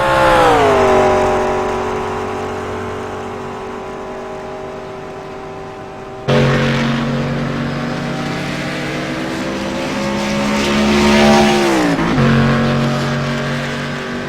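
Cadillac race cars tearing past at a track, loud engines rising in pitch and sweeping by one after another, with a sharp cut to a second close, roaring pass near the end.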